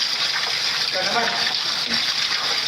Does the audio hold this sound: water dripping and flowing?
yes